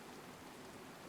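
Rain falls in the video game DayZ as a steady, soft hiss of broadband patter. It is faint and continuous across the brief moment, with no voices.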